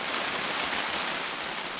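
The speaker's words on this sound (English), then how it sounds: "I didn't expect the rain." Heavy rain during a storm at South Rhinns, a dense, steady hiss of downpour close by, continuous and even with no pauses.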